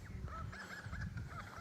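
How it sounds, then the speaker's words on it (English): A couple of dogs barking in a quiet outback town street, faint and distant, with short yips over low background rumble. "A couple of dogs barking."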